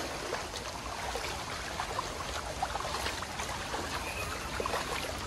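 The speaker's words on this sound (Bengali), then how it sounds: "এই আমরা আবার নামলাম টানেলে, ঠান্ডা জল টানেল।" Cold water runs steadily through a tunnel at Shiv Khola near Siliguri, Darjeeling, a continuous broadband rush and trickle with soft gurgles, fairly close and even throughout, with no one talking.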